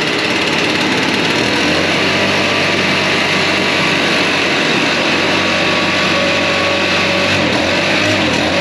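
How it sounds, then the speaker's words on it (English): Backpack leaf blower engine running steadily after a start in real cold weather, close and loud, a continuous high-pitched two-stroke drone with slight wavering pitch throughout. "backpack blowers typically don't like to start in the cold"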